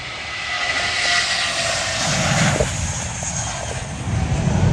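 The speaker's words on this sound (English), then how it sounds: "Oh, a sheriff helicopter." A 1971 OH-58 sheriff patrol helicopter drones steadily overhead at an outdoor car and aircraft show, a continuous engine and rotor roar holding at a fairly loud level throughout with no voices.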